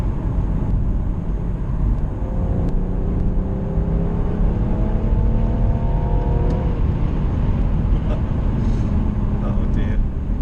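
A BMW M135i with the N55 engine in Bluespark tune pulls steadily on a Peak District road, its engine note climbing smoothly under constant road and cabin rumble as the car accelerates.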